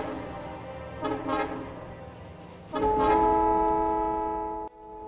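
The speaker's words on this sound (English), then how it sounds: "now the next Invar train is here" Several freight trains arrive and unload at a Factorio rail station in a factory-building game, with a short pair of toots early on and then a long, loud horn blast that holds steady before cutting off.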